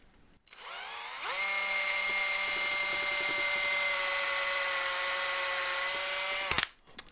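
A power drill fitted with a long-series 3.5mm bit bores screw holes into a Stratocaster-style guitar body, a steady high whine held for about five seconds after a brief spin-up, close and loud, then stopping abruptly.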